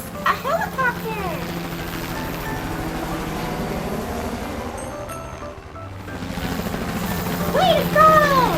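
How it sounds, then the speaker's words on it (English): A helicopter's steady rotor and engine drone runs continuously and fairly loud, with a child-friendly narrating voice speaking at the start and end. "It's a helicopter."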